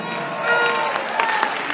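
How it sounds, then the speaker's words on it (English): Church congregation clapping for the Lord during a sermon, a short burst of crowd applause with a few voices mixed in. "Give the Lord a better clap of it"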